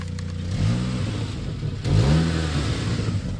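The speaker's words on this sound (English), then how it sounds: "I'll let you hear what the exhaust's like" A Saab 9-3 2.0 Turbo (B204 engine) revs twice, each throttle blip rising in pitch through the exhaust and then settling back to a steady, low idle rumble, heard up close.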